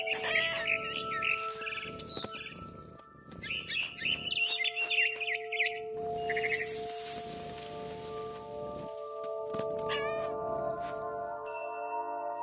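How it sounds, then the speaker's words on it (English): Bright chirps and tweets of a barn swallow come in repeated bursts near a window, set over a steady tonal hum and soft background noise, with no one talking. "Then I heard chirping outside my window. It was a barn swallow going back to her nest."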